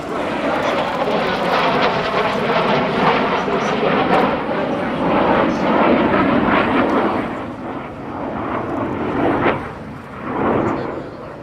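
US Navy F/A-18C Hornet and T-2 Buckeye jets pass in a large formation down an airshow line in Janesville, Wisconsin, a loud, steady broadband jet roar that swells and holds for several seconds before easing slightly.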